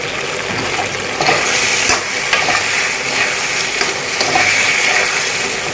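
Chicken sizzles and fries in a pan for butter chicken as a little sauce goes in, the steady frying hiss swelling with stirring and occasional wet spatters, close and continuous with no talk.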